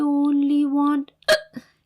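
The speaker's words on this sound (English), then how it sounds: "But the hiccups still didn't go away." A single sharp hiccup bursts out right after a sustained sung or hummed voice stops, loud and close, followed by a smaller faint catch of breath.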